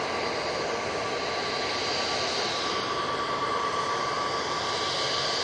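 Jet airliners taxiing at Manchester Airport, a steady broadband engine roar with a thin whining tone, moderately distant and constant, no voices.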